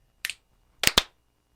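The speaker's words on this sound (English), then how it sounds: "We do a snap and then we do a clap." One crisp finger snap is followed after a short pause by two sharp hand claps, used to sync cameras while recording a podcast, close and loud in an otherwise quiet room.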